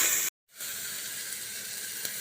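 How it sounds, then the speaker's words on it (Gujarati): Red chili, green garlic and onion dropped into hot oil tempering with asafoetida, a loud steady hiss and sizzle that cuts out briefly and then resumes, continuing evenly. "તો આપણે 1 લાલ મરચું, લીલું લસણ ને ડુંગળી વઘારમાં નાખી દેશું।"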